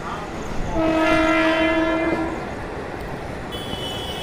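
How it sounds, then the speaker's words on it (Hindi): A passenger train, Dildarnagar–Mughalsarai service 03641, approaches Zamania railway station, sounding a long, loud two-tone horn blast for over a second above a steady rumble of rolling wheels and carriages. "और हमारी ट्रेन जमानिया रेलवे स्टेशन के नज़दीक पहुंचते हुए"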